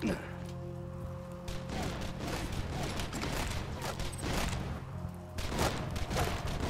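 Pistol fire with exploding bullets in the video game Borderlands 2, a dense run of rapid shots and bursts under chatter from several players, louder toward the end.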